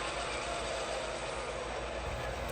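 Rumble of CN locomotive 579 in HO scale running steadily on the layout, leading from GTW 5856, a continuous mid-level drone with faint wheel noise and no pauses.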